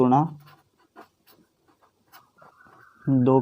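Writing on a board in a class 10 maths lesson on comparing linear equations: faint, scattered scratchy strokes fill a pause, with a voice speaking briefly at the start and again at the end.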